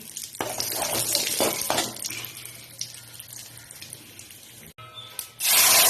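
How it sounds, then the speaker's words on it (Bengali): Cumin seeds, dried chili and bay leaf sizzle in hot oil for a Bengali fish curry, a dense crackling hiss up close with stirring scrapes, dipping briefly then flaring loud again at the end. "তেলের মধ্যে ফোড়ন দিয়ে দিচ্ছি জিরে, শুকনো লঙ্কা আর তেজপাতা দিয়ে একটু ভাজা ভাজা করে নিচ্ছি।"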